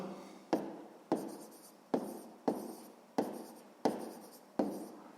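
A pen scratches across paper during sixth-grade maths work, seven quick strokes in an even rhythm, each a sharp start fading into a soft scrape, quiet and close.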